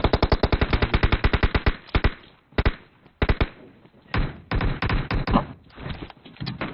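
Rapid automatic gunfire from a 5.56 rifle in the mobile battle royale game PUBG Mobile, loud close bursts of sharp shots in quick succession, with short gaps between volleys and a few scattered later shots.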